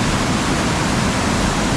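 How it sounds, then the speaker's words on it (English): A river rushes through Mostar in Bosnia and Herzegovina, a loud, steady roar of water filling the whole moment with no breaks and no voices. "incredible water flow."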